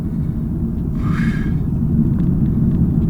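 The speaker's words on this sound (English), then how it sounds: "it's a driving pleasure that has a 5-liter V8 that's naturally aspirated right in front of you" The naturally aspirated 5-liter V8 of a Lexus RC-F gives off a deep, steady low rumble, with a brief higher whine rising and fading partway through.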